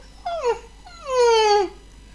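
A frightened dog whimpers as it runs away with its tail between its legs: two high, falling whines, the second longer and louder, close and clear with no other sound.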